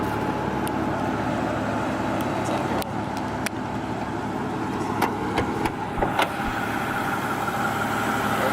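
A one-owner Mercedes AMG with a twin-turbo V12 runs at a steady idle, a low continuous engine hum close by, punctuated by a few sharp clicks and knocks.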